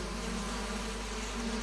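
Bees buzzing around a hive in the video game The Quinfall, a steady close droning hum that holds evenly throughout with no talk.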